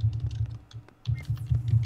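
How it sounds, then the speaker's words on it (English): Rapid clicking of computer keys in quick, uneven bursts during an online game, with a brief pause midway before the typing picks up again. "I hear you typing so vigorously"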